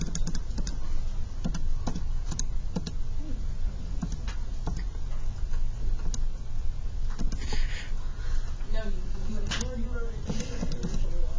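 Button presses while numbers are typed into a calculator, a scattering of light, close taps at uneven intervals against a steady background hum, with a person speaking briefly near the end.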